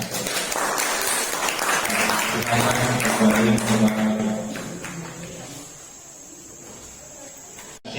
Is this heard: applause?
yes